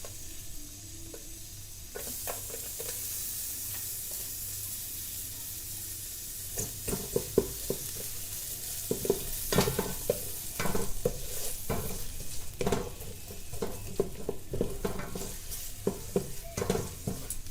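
Chopped onion fries in oil with a little ginger paste for pilau rice, a continuous close sizzle broken by frequent scraping and clinking of a spatula against the pan.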